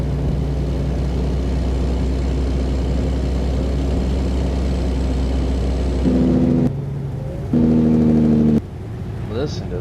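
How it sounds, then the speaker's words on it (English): A heavy truck's engine retarder braking in the American Truck Simulator game, a loud steady low engine drone that shifts into pulsing, stepped tones in the latter part, with a voice talking over it. "Listen to that retarder kicking in."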